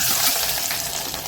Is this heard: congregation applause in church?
no